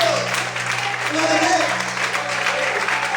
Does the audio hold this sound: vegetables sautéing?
no